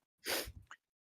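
A single short, sharp human sneeze, close and fairly quiet, followed by a brief after-breath.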